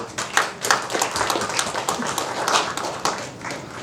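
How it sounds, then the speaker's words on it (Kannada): A crowd claps for a film figure at a Kannada movie event. The clapping is a dense, continuous patter of many hands for a few seconds, close and fairly loud, with no talk over it. "ಎಲ್ಲರೂ ದಯವಿಟ್ಟು ನರ್ಸಿ ಸರ್ಗೊಂದು ದೊಡ್ಡ ಚಪ್ಪಾಳೆ"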